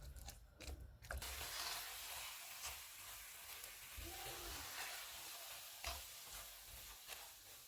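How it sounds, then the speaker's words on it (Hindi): Date halwa with khoya, sugar and milk is stir-fried in ghee, a soft continuous sizzle under scraping stirs and a few faint clicks of the spoon against the pan, quiet and close. "इसको घी अलग होने तक भूनेंगे।"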